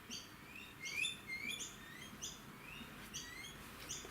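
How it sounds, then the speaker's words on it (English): Birds chirp and tweet outdoors after rain, several short high calls in loose bursts, faint and somewhat distant over a soft background hiss. "Can you guys hear the birds?"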